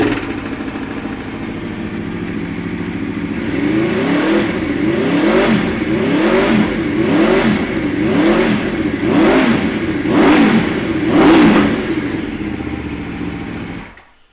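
A 2011 Aprilia RSV4 1000 Factory APRC motorcycle engine starts and settles into a close, loud idle, then revs in a regular series of sharp blips before cutting off at the end.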